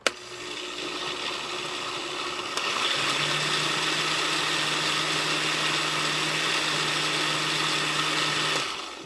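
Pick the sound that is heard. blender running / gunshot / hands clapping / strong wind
blender running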